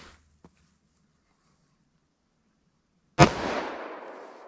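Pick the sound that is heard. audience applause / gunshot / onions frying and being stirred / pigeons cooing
gunshot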